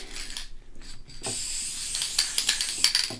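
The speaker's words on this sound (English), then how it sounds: "just a very airy spray, and keeping that distance" An aerosol can of fixative sprays over a colored pencil drawing, with a few short clicks and rustles before a sustained close hiss that sputters slightly toward the end.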